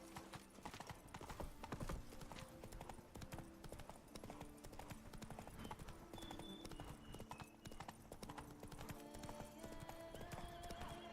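Roach the horse gallops in The Witcher 3: Blood & Wine, a steady run of hoofbeats with an occasional whinny under layered game music and ambience throughout.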